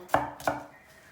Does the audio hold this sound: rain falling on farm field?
no